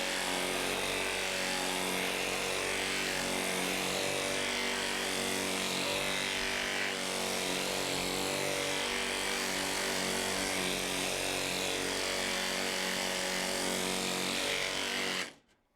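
A Baxter straight line sander from Harbor Freight, fitted with 240-grit paper and working over body filler, buzzes steadily and loudly at close range for about fifteen seconds, then cuts off.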